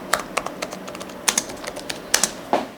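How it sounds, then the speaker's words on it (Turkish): Soft, quick keystrokes on an Asus Zenbook S14 OLED laptop keyboard with 1.1 mm key travel click in an uneven rhythm, close and fairly quiet, with brief pauses between bursts. "Kullanırken nasıl bir ses aldığını size gösteriyor"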